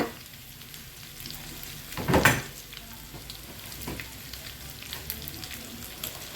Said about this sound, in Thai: ผัดกะเพราให้หลาน ใส่ไปหมดไปเลย